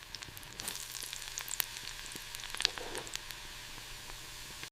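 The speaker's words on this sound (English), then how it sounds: "The fat melts, frying the cake from the inside." Vietnamese crispy pancake frying in melted pork belly fat, a steady close sizzle with scattered sharp crackles and pops throughout, no voices.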